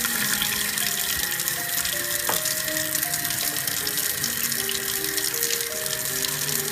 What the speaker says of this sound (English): I take the bulgur and the cracked wheat and I wash it a little bit